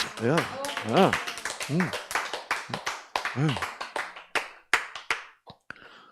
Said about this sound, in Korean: 이러니까 박수가 나오지